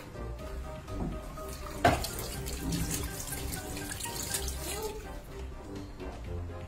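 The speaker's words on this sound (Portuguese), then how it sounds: "Vou lavar as mãos." Hands being washed under a running kitchen tap at a sink while cooking a lamb roast, a steady close water stream with splashes and one sharp clatter early on.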